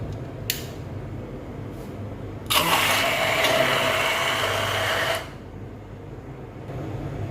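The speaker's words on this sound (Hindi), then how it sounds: "अब हम इसको ब्लेंड करने लगे हैं" An electric blender grinds nihari paste in one loud burst of about three seconds, with a whirring motor tone that starts abruptly and then cuts off, followed by quiet room sound.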